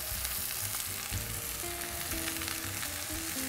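Mushrooms fry in a hot cast iron pan with a loud, steady sizzle and crackle that fills the whole stretch, alone and close to the pan.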